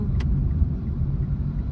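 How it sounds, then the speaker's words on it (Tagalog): Road traffic heard from inside a car, a steady low rumble of engines and tyres with a brief faint hiss near the start, no talking. "Traffic."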